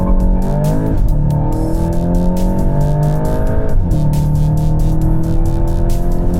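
A Volkswagen Golf GTI launching hard on a track, its engine roaring loud and close as it climbs through the revs, with two sharp gear changes breaking the rising drone.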